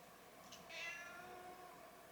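A cat gives a clear meow indoors, one drawn-out call of moderate loudness set against quiet room noise.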